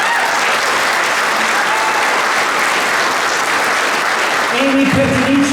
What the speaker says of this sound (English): So give a nice round of applause